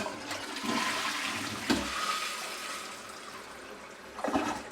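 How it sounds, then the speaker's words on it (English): A Toto Aquia II dual-flush toilet doing a half flush: a close rush of water that swirls and drains for a few seconds, followed by a brief gurgle at the end. "Let's try a half flush and see how that works."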